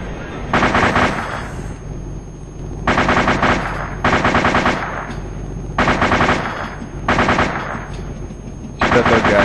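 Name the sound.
machine gun fire in the video game ARMA 2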